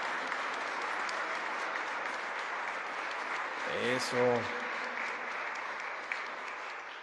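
A church congregation applauds for the parish, a steady wash of clapping heard from a distance that holds evenly throughout while a brief voice speaks over it midway.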